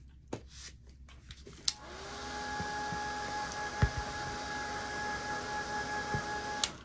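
A hair dryer blowing on wet paint switches on after a few clicks and holds a steady, close whirring hiss with a faint tonal whine for several seconds, then clicks off at the end.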